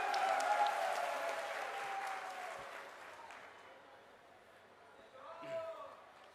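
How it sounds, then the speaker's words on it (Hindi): A crowd applauds to welcome a speaker at an international tribal conference in Nagpur, the clapping full at first and fading over several seconds before a voice begins speaking. "जोरदार तालियों से स्वागत होना चाहिए।"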